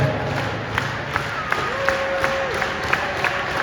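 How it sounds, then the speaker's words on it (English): Convention crowd cheering at a wrestling event in Columbus, a loud continuous roar of many voices with scattered shouts, whistles and sharp claps rising over the din. "Crowd firing up here."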